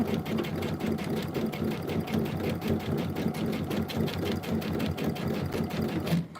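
A sewing machine stitches a placemat in a rapid, steady mechanical whirr with even needle clatter, close and continuous throughout and no talking over it.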